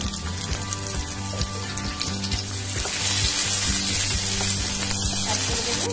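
Capsicum and tomato sizzle steadily in a frying pan, a close, continuous hiss with faint clinks and stirring under a soft background tune.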